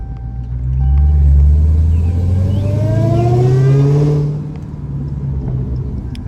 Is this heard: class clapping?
no